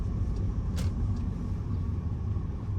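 A car driving forward on a bumpy street during a road test, heard from inside as a steady low engine and road rumble with no talking.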